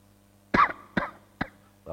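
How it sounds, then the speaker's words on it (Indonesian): A man coughs four times in short, separate bursts with gaps between them, close by and alone, following a prayer. "Bapak itu setelah berdoa batuk-batuk."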